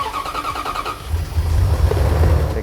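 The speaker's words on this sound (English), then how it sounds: "I then can start the car." A merch van's car engine cranks and catches about a second in, then settles into a loud, steady low rumble that runs to the end.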